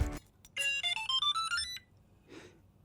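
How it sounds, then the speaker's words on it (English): A Glidecam Centurion gimbal powers on and plays a short, bright electronic startup jingle of rising tones. It is close and clear, with a faint tone afterwards and no talking. "my favorite thing about it by far is the sound it makes when it turns on"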